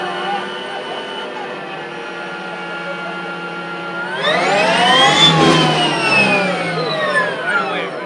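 A motorcycle engine holds a steady mid-pitched drone, then the throttle is punched and it revs hard, pitch sweeping upward as it accelerates loudly and close by, with wind noise.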